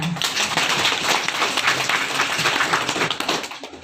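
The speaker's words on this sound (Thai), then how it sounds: "นี่ก็ขอเชิญชวนพวกเราปรบมือของคุณวิทยกรด้วยกันค่ะ" Audience at a closing ceremony for a community training course in Mae Taeng, Chiang Mai, applauding the guest lecturer: dense, steady clapping from many hands for nearly four seconds, fading out at the end.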